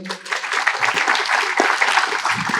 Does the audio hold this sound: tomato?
no